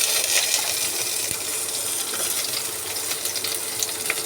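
Vegetables tipped into hot oil tempered with cumin and bay leaf, a bright continuous sizzle with small crackles and pops, close and steady, with no talking.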